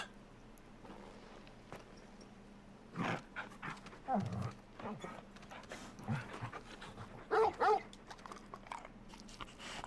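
Torgal, a large dog in the Final Fantasy XVI video game, pants softly in short bursts with a few chewing, snorting huffs at close range, all quiet over a low game background hum.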